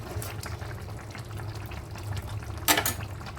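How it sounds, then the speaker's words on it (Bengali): Bengali sukto with ghee simmers and bubbles softly in a pot, a faint steady liquid burble with a brief louder stir near the end. "খুব ভালোভাবে নেড়ে চেড়ে ফুটিয়ে নিতে হবে।"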